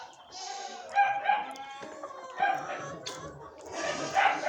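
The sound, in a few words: rooster crowing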